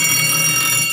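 A gas extinguishing release control panel sounds its alarm after a second smoke detector triggers, a loud, steady electronic tone with a rapid pulsing buzz running through it.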